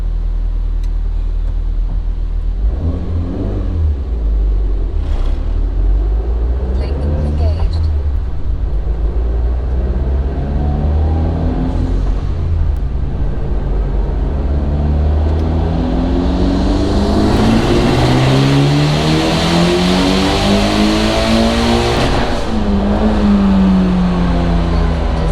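Mitsubishi Evo 9, mostly stock with S1 cams, revving close by: a loud, steady engine drone that climbs through a couple of strong rev sweeps and drops back, with no talk.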